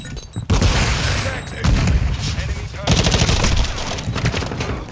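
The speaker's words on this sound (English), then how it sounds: "I spawned being shot" Rapid automatic gunfire and booming blasts in Call of Duty: Modern Warfare II multiplayer, loud and dense in bursts with brief gaps, plus a short talking voice.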